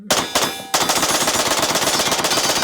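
Scar 15P pistol firing a fast, steady string of shots, loud and close, with a few separate reports at the start before the rapid rhythmic volley continues to the end.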